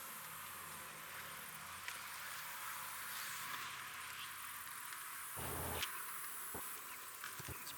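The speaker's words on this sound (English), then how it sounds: "These bees, whenever they see a little slit, they like to try to come through there" Bees buzz steadily around a colony at a hive, a faint continuous drone with scattered soft knocks and taps. No one speaks.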